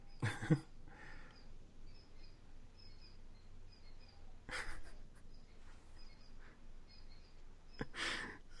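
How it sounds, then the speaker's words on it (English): A small bird chirps faintly in the background, giving soft, thin repeated calls in a quiet room, broken by a few louder rustling bumps nearby. "I heard there's like a bird in the background"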